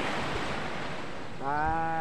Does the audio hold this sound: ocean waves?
yes